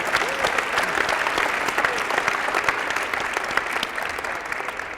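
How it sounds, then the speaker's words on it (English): A conference audience at the 2013 CEO National Conference breaks into sustained applause, a dense, even crackle of many hands clapping that holds steady throughout. "Give yourself a big round of applause"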